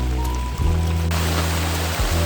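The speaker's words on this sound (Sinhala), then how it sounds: "මේ වැස్සට මේ වතුර පහරවල් හැදිලා" Rainwater runs in shallow streams across the ground after a downpour, making a steady, close rushing wash. A low continuous hum sits underneath, and there is no speech.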